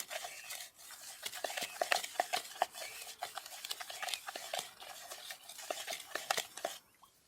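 Dry Herabu fishing bait dough mix is stirred and kneaded by hand in a container, giving steady close scraping and rustling strokes with small clinks, and no voice over it.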